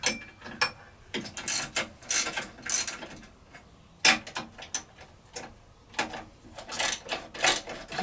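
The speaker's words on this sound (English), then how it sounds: "I'm just loosening up, not removing them, the 4 mounting bolts here." Ratchet wrench loosening the four mounting bolts on a Sole treadmill motor, quiet clicking bursts in irregular runs with short pauses between them, close by.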